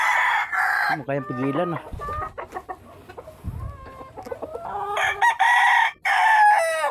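A rooster crows loudly at close range, with a long drawn-out call near the start and another near the end, mixed with clucking. A person talks in between.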